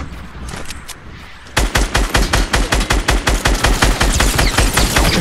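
Submachine gun fire in Fortnite Battle Royale: after a quiet moment, a loud, rapid, steady burst of shots runs for several seconds without a break.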